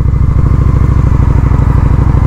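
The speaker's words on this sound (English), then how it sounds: "I love the V-twin engines, man. I love the rumble" A liquid-cooled Honda Shadow 750 V-twin motorcycle engine rumbles steadily and loudly up close, with a dense, even low throb and no talk over it.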